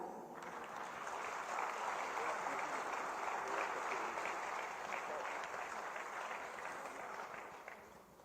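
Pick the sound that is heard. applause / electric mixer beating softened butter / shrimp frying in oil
applause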